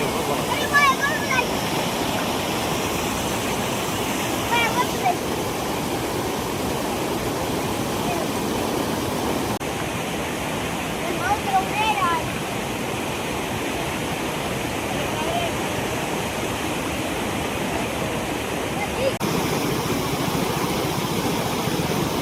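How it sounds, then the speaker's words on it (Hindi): Swollen Balliyas Bedash river after continuous rain, rushing over a low culvert: a steady, loud broadband roar of churning water that persists throughout, with faint traffic or engine noise in the background. "लगातार हो रही बारिश के चलते बल्लियास बेडश नदी उफान पर है।"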